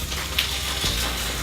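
A mushroom, egg and bacon open sandwich sizzles steadily in a frying pan as it is flipped, with a soft dull thud partway through the quiet frying.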